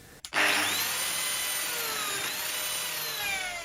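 A Lamello biscuit joiner spins up with a brief thump and then whines steadily as it recuts a slot in wood, close and continuous, with no talking.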